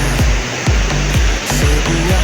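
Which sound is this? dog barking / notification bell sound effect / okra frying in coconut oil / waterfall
waterfall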